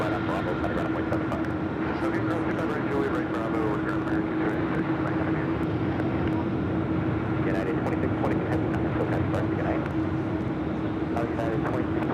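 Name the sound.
airplane flight departing to Chicago O'Hare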